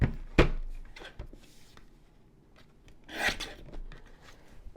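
A paper trimmer slices scrapbooking cardstock, two quick rasping cuts heard up close and moderately loud, with quiet handling in between and no speech.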